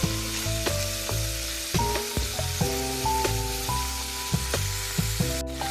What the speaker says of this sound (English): Go ahead and continue to cook it until it's all brown.